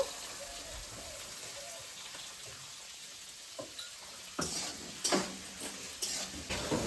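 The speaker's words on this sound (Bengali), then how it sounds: "পালং শাক আলু বেগুন মটরশুঁটি দিয়ে এখন ভেজে নেব" Spinach, potato, eggplant and peas sizzle quietly in a pan, joined in the second half by a few sharp scraping stirs and clinks.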